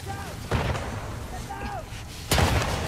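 Two sharp, loud gunshot blasts crack out in a The Last of Us Part II firefight, spaced about two seconds apart over a low rumbling game background, with brief shouted voices mixed in.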